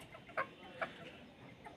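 A chicken perched in a flowering tree gives a couple of short, soft clucks against quiet outdoor background, two brief calls close together then faint stillness.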